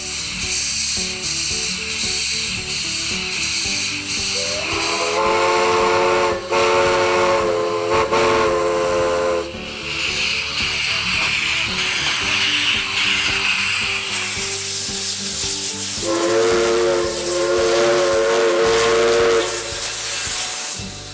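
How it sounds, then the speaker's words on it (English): Steam locomotive on the Stourbridge line at a steampunk festival in Honesdale, Poconos, with loud sustained whistle blasts layered over continuous hissing steam and rumbling machinery, close and steady throughout. "The day featured several events, including a steam-powered locomotive on the Stourbridge line."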